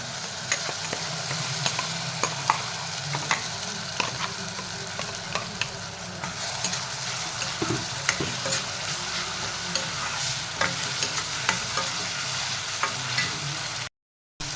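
Ginger, garlic and onion paste fries in a pan with softened onions while being stirred, giving a continuous close sizzle broken by steady scraping strokes until a brief cut near the end.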